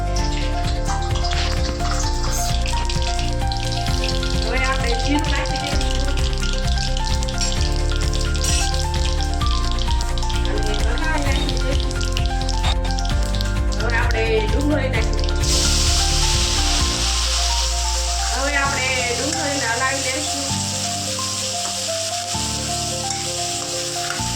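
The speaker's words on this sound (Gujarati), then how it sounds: "તેલ ગરમ થઈ ગયું છે એટલે રાય નાખી દઈશું" Mustard seeds hit hot oil for spiced Maggi noodles and sizzle in a soft crackle under steady background music, turning into a louder, brighter hiss partway through.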